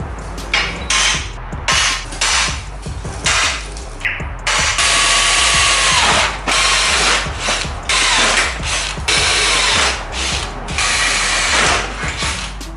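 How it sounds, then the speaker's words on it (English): A drill boring holes in a Jeep XJ frame rail: loud, close grinding and rattling metal chatter in repeated bursts with short pauses between holes. "Let's get these ones drilled and we'll just rip into that side."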